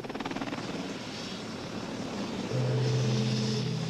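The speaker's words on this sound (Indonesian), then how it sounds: "met een helikopter die bij zijn landing op het voorplein heel wat stof deed opwaaien" A helicopter lands on the forecourt of Paleis Huis ten Bosch in the Netherlands, kicking up dust. Its steady rotor and engine drone carries throughout and swells louder near the end, with no talk over it.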